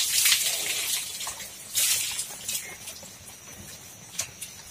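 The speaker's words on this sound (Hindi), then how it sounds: "अब मम्मी इनको नहा रहे हैं दोस्तों, फिर से इनके ऊपर पानी फेंक रहे" Water splashed over cattle during bathing outdoors, irregular gushes and splashes with brief dripping between them, fairly close, no speech.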